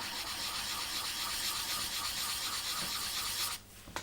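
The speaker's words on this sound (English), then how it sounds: "So 400 grit, just going to go around in a circular motion" Sandpaper of 400 grit rubbing in circles over a small piece of wood for a wooden ship model, a steady, close, even rasping that carries on without a break and stops abruptly just before the end.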